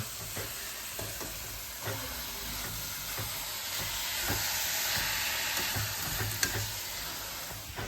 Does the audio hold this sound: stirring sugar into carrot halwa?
yes